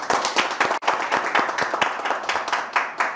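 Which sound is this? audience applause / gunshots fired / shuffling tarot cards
audience applause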